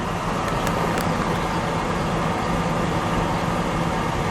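A white 1967 Ford Thunderbird with a Landau roof idles in park, its engine giving a loud, steady, even rumble close by, with a few faint clicks early on.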